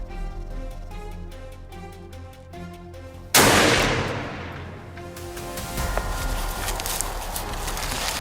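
A single loud gunshot cracks out during a wild boar hunt, a sharp broadband blast that follows several seconds of quiet outdoor ambience and leaves a long fading echo and rustle behind it.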